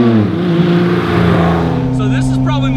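A 1987 BMW E30 325e runs steadily close by, its engine note holding a low, even drone with a slight rise toward the end, while someone speaks over it throughout.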